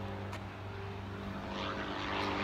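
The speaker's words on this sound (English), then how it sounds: "Damn airplanes." Propeller airplane passing overhead, a steady droning engine that grows slightly louder toward the end, heard outdoors with wind during a radio-control range test and no talk.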